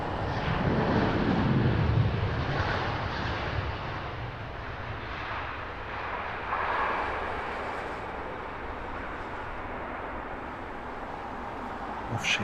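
An airliner passes overhead at Heathrow, its engine roar loudest early and then slowly fading into a long, distant rumble.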